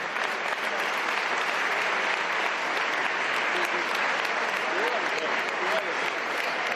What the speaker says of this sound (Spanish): Un aplauso enorme para Chomin Perurena